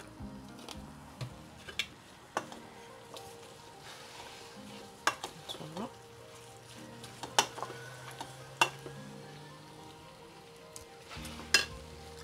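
Spaghetti ingredients fry in hot, sizzling oil in a pan, giving a soft, continuous sizzle broken by scattered sharp pops and clicks of utensils, close and without talk.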